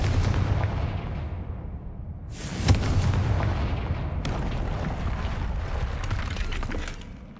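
A Confringo fire spell explodes in Hogwarts Legacy: a rumbling blast swells, then a sharper crack-like burst hits, followed by a long, dense roar of fiery debris that fades at the end.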